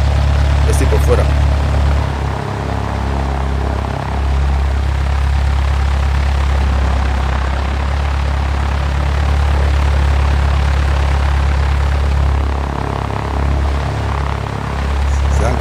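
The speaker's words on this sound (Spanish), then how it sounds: "Salgo para que escuchéis el sonido, como varía según la posición donde estemos en el avión" Steady propeller aircraft engine drone heard from outside the plane in X-Plane 10, a loud continuous low hum with a constant pitch and slight fluctuations throughout.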